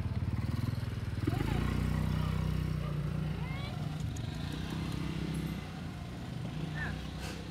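A motorcycle engine rumbles past on a street where stray cats are being fed. The low engine drone is loudest at the start and fades away under nearly continuous nearby talking.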